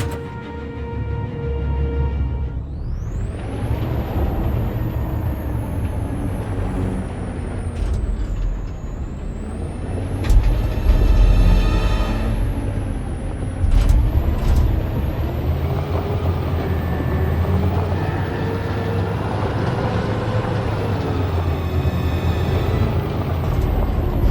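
A heavy truck engine in the video game Detroit: Become Human drones and revs throughout, with a rising whine and sharp hissing bursts of air brakes releasing, loud and close.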